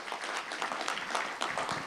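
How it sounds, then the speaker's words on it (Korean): A conference audience at Seoul Forum 2020 applauds steadily, a dense wash of clapping at moderate distance, fairly quiet and continuous. "박수 부탁드립니다"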